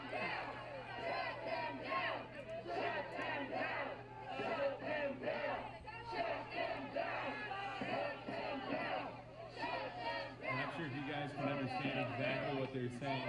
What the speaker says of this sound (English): it gets lost a little bit in the crowd noise, but they're saying shut them down.